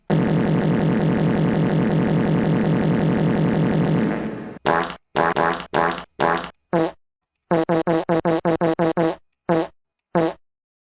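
A long buzzing synthetic fart sound effect drones for about four seconds, then breaks into a string of short sputtering bursts with brief gaps between them, loud and close with no talking.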